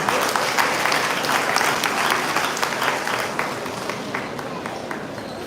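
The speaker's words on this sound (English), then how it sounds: "Let's have a round of applause for Mr." A large audience at a high school graduation ceremony breaks into sustained applause, dense and even, gradually thinning toward the end.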